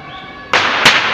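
A loud firecracker bursts close by in the street during a Fallas festival in Spain, followed by a second sharp crack and a lingering crackling wash of noise.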